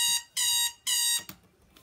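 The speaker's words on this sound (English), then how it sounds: "That's what a clock alarm sounds like." An electronic alarm clock beeps loudly in long, evenly spaced bursts: two full tones and the start of a third, with no voices.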